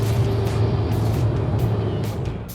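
A Toyota Landcruiser 200 series cruises on the highway at 90 km/h, its engine a steady low drone under broad road and wind noise, constant and close from inside the cabin.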